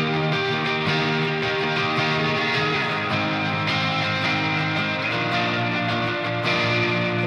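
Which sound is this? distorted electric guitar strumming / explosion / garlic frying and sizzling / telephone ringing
distorted electric guitar strumming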